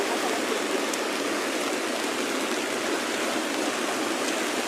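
Floodwater rushes through the Kibra slums in heavy rain, a dense, steady roar of churning water like a swollen river, loud and unbroken with no voices.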